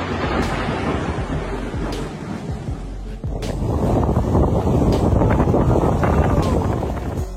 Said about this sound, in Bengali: এত সুন্দর বৃষ্টির মুহূর্তে বজ্রপাতগুলো যেন প্রকৃতির ভয়ঙ্কর রূপ মনে করিয়ে দিতে আসে।